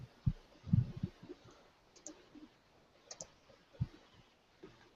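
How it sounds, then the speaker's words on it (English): Computer mouse clicks sound in scattered short taps, a quick cluster early on then sparser single clicks, close and fairly quiet. "I'm just clicking on this video and it's not doing anything."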